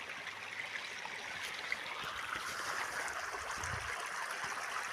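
Water leaks from a village water pipe in the mountains, making a faint, steady trickling rush that continues with no one talking.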